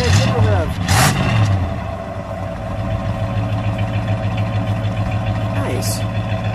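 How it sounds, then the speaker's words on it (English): A 1968 AMC Rebel SST convertible with a single exhaust idles close up, then gives one quick rev that swells and settles back to a steady low rumble, with voices nearby. "Single exhaust, here it is. We are right up on it, you can barely hear it. Yeah. Go ahead, single rev."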